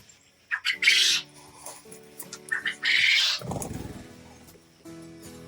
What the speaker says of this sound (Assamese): এই চাওক বটা চৰাই